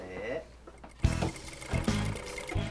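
A sewing machine in a working shop starts up after a quiet voiced moment. It runs with a loud, close whirring and rhythmic pulses that carry on to the end.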